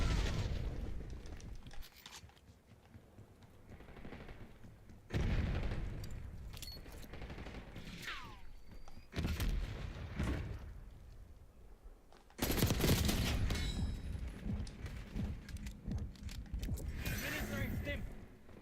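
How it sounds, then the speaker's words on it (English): Call of Duty combat: grenade explosions and bursts of gunfire in bursts of booms and rapid shots, loud and close, with pauses between bursts and game voice lines heard over the action. "Incoming grenade."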